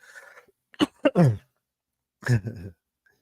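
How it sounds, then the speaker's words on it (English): A few rough throaty coughs and throat-clearing bursts close to the mic, clustered in quick succession, then a pause before a final cough. "Allow me to cough."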